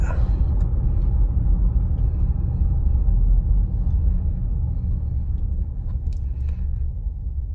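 A 2018 GMC Yukon Denali with traction control off gives a deep, steady engine rumble from inside the cabin as it launches hard, droning loudly and continuously throughout.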